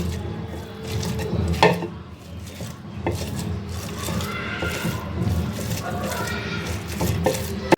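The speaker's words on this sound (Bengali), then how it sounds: "এখন আমি এটার সাহায্যে ফুলকপিকে মিশিয়ে নেব।" Cauliflower bhorta, with picked fish flesh, is mashed and mixed using a utensil, giving continuous close rasping, rubbing and scraping strokes with occasional sharper knocks against the bowl, steady and moderately loud.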